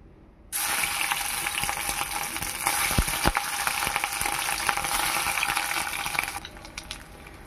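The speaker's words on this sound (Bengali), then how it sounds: "মাছের ডিম ভাজা হচ্ছে," Fish roe hitting hot oil in a wok over a gas flame bursts into a loud, bright sizzle that holds steady for several seconds, with a few sharp pops, then cuts off abruptly.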